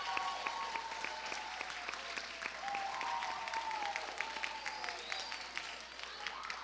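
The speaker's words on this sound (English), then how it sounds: "can we give your parents a round of applause" Parents at a middle school band concert receive a sustained round of applause from a crowd, steady dense clapping with a few whoops and voices mixed in, fairly distant in a large hall.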